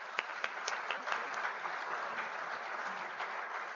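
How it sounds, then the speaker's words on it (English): Sustained applause from an audience at a medical department awards day, a dense even patter of many hands clapping at a distance, with no break. "Let's give these guys a big round of applause."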